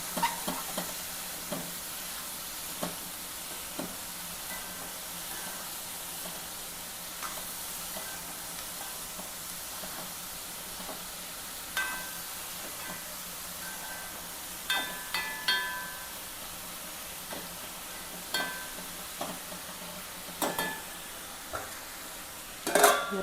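Prawns and ivy gourd stir-fried together for a Kerala mezhukkupuratti: a soft, steady sizzle in the pan broken by intermittent clicks and scrapes of stirring, fairly quiet and close, with no talking.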